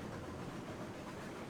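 A heavy coal train of 24 cars rolls on in Railroads Online as a steady, dense rumble with faint wheel clatter, continuous and moderately loud, with no voices.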